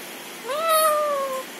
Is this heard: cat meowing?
yes